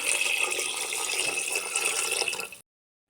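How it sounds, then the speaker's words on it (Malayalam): Water pours into a pot of tomato rice, a continuous bright splashing stream that runs steadily for about two and a half seconds before cutting off abruptly. "വെള്ളം ഒഴിക്കാം."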